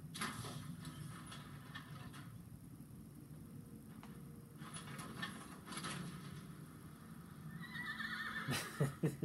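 A horse in Fallout 4 gives a faint whinny over a low ambient game hum, with mechanical clicks and shuffling near the end; no talk.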